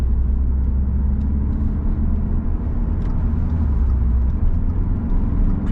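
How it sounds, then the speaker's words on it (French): A 2013 Audi A3 8V TDI 105 diesel with S tronic gearbox pulls hard under acceleration, its steady low engine drone and road rumble filling the cabin continuously with no talk over it. "On va essayer de faire une première accélération, une première zone de dépassement comme d'habitude."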